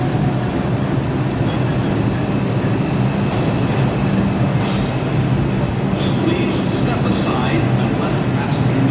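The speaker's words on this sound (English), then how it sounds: "There is a downtown local 1 train to South Ferry. Approaching the station" A New York City subway train, a downtown local 1 train bound for South Ferry, rumbles steadily into a station, with a constant loud low roar of wheels and cars throughout and faint platform voices underneath.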